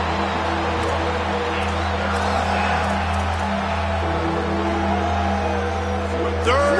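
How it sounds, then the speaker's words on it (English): Stadium crowd at a football game in the red zone on third down: a steady, dense roar of cheering voices fills the whole stretch, with a tonal hum underneath and a brief whistle-like tone at the very end. "this crowd is at fever pitch"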